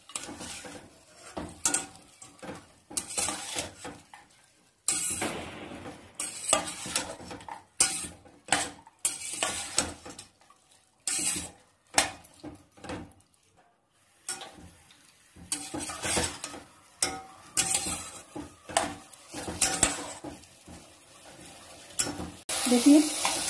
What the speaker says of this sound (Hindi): काजू किशमिश, सारी चीज को अच्छी तरह मिलाऊंगी।